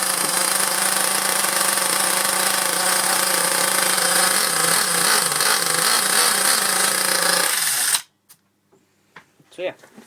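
A small nitro model engine runs after its carburetor is adjusted, giving a loud, high-pitched, buzzing whine that holds steady with slight wavering before cutting off abruptly, followed by a few faint handling noises.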